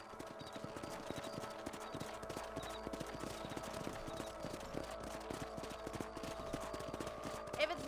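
Horse hooves clip-clop steadily at a riding pace on a ranch in the Red Dead Redemption video game, a continuous rhythmic patter under ambient game sound and spoken dialogue.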